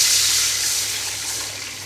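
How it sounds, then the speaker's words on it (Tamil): Water gushes into a pan of fried onions and lentils while semiya upma is being cooked, a close, loud hissing rush that fades slightly over two seconds. "இப்போ நம்ம தண்ணி ஊற்றிக்கலாம்."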